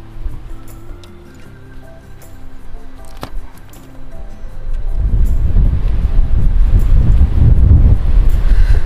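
Wind buffets the microphone with low, rumbling gusts that grow louder and steady in the second half; faint clinks are heard earlier.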